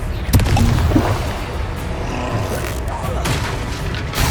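Confringo fire spells exploding in Hogwarts Legacy, a steady roar of booming impacts with sharper bursts early on and again later, loud and dense from start to finish.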